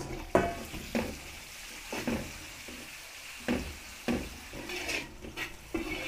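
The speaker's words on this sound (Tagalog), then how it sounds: "gisa po natin yung ating kasim" Pork shoulder stirred in a pan with garlic and onion, a spatula scraping and knocking in irregular strokes over a soft background sizzle, close and fairly quiet.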